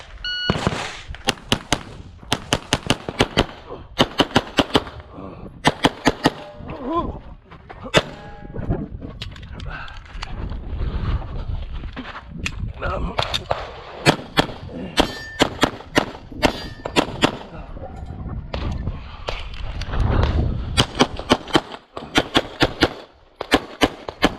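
A Walther Q5 Match Steel Frame SF pistol fires on a USPSA range in rapid bursts of sharp, loud reports, with the strings of shots separated by short pauses across the whole stretch.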